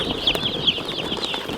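Shrill, high chirping of baby chicks in a portable coop, several overlapping cheeps in quick succession over a low background rumble.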